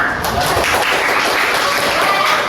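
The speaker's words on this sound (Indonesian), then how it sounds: "Tepuk tangan lagi." A room of people applauds, broad steady clapping that fills the whole stretch at close range with no break.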